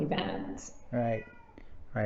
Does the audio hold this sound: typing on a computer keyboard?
no